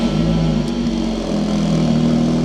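Scirocco R with a custom exhaust idling on a cold start, a steady low rumbling drone throughout, close and loud with no talk.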